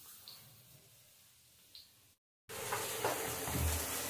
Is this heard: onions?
yes